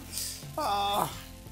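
Dosa batter sizzling on a hot pan, a steady frying hiss that swells and holds close by for about a second.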